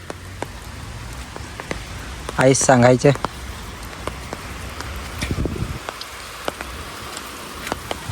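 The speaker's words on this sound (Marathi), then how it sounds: "जस्ट सुकवायला टाकलं आणि लगेच पाऊस पाच मिनटं नाही झाले तोपर्यंत लगेच पाऊस" Rain pours onto a rice harvest spread out to dry, a continuous soft hiss of falling drops, with a person briefly speaking over it partway through.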